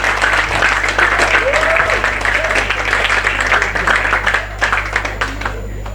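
An audience at an awards ceremony claps and applauds steadily, with a loud, sustained patter of many hands and a faint voice rising briefly through it.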